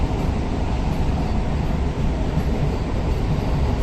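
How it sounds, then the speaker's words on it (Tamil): Steady rumbling of a moving Chennai suburban electric local (EMU) train heard from inside, continuous clatter and hum with no voices. "ட்ரெயின் பார்த்தீங்கன்னா ரொம்ப ஸ்பீடாலாம் போகல. நார்மல் ட்ரெயின் மாதிரி தான் போகுது."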